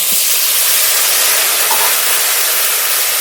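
A spice paste of ground cumin, green chilli paste, turmeric and a little water sizzles in a pan while being fried for a Bengali curry. The hiss is loud, steady and unbroken, with no talk over it.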